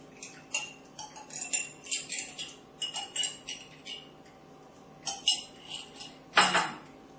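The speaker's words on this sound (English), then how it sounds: "I take my yogurt starter and spoon it in" A spoon scoops yogurt starter into a measuring cup, making a string of light metallic clinks and taps in uneven bursts, close and fairly quiet, with no voices.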